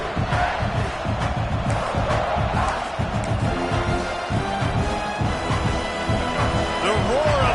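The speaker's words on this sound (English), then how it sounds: "The roar of the crowd trying to fuel this defense to keep them pinned in their own end." A football stadium crowd roars continuously behind the defense, a dense, loud wash of cheering and shouting that holds steady from start to finish, with a commentator talking over it.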